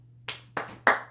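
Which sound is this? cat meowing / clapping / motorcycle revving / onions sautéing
clapping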